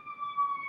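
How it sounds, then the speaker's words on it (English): A steady, high tonal siren wail outside in New York, somewhat distant and faint, holds its pitch for a brief moment with no talking. "Oh, the siren."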